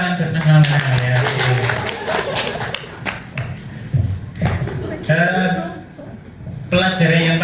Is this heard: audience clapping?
yes